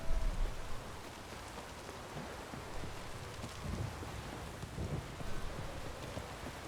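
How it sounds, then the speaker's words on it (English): A heavy thunderstorm in the video game Witcher 3 fills the scene with dense, steady rain and low rumbling thunder, loudest at the start, with no voices over it. "Storm, damn it."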